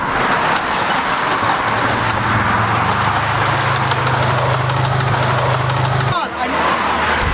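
An Acura Integra engine suspected of rod knock runs steadily nearby, a low continuous hum with a faint rhythmic tick, alongside outdoor noise and people talking, before the engine note abruptly cuts near the end.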